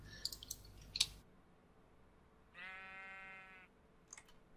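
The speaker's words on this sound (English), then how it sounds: "It was a sheep eating grass." A Minecraft sheep lets out one short, buzzy bleat at moderate level, standing alone against a faint background after a few earlier clicks.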